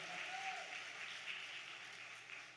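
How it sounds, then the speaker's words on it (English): Students at the Lincoln University of Missouri Masked Ball receive steady audience applause, a faint, dense wash of clapping from a crowd heard at a distance. "Keep clapping until they get to the podium"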